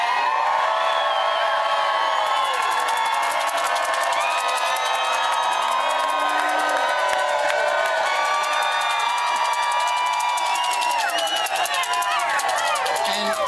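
A crowd of fracking protesters in Foley Square, New York, keeps up constant loud cheering, whooping and shouting, with overlapping voices and scattered whistles.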